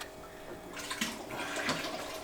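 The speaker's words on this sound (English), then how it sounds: "it's good to slowly pull the skimmer out to allow it to drain out of water" Water drains and splashes out of an aquarium protein skimmer as it is slowly lifted out of a reef tank, a faint, gurgling trickle that picks up slightly after the first moment.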